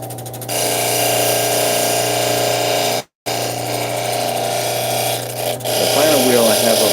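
A stone cabbing machine's polishing wheel hums steadily as a stone is polished, with a brief cutout of the motor midway and light rubbing and scraping toward the end.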